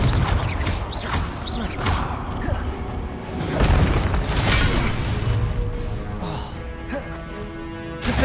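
Repeated magical spell blasts from Confringo and Incendio in the Hogwarts Legacy video game, booming bursts and whooshes going off in a busy stream of combat sounds, with faint voice underneath.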